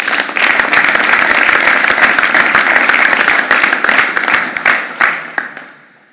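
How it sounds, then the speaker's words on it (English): Loud, close applause from attendees at a university board of regents meeting, a thick run of claps that holds steady for several seconds, then thins out and fades to quiet. "So another round of applause."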